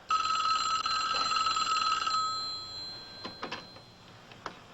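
A telephone bell rings loudly in a steady, continuous trill for about two seconds and then stops, followed by a few faint clicks and knocks as the handset is picked up.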